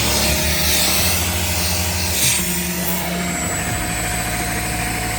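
A Craftsman XSP 4 gallon shop vacuum runs with a steady, loud motor drone and faint tonal whine, holding constant throughout without talk.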